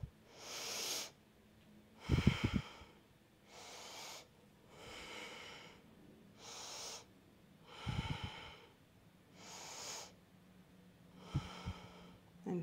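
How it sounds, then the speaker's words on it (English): Slow, deep breaths in a yoga pose, with audible inhales and long exhales in a steady rhythm, close and fairly quiet, plus a few brief soft thumps between breaths. "let's look forward and let's do five deep breaths here"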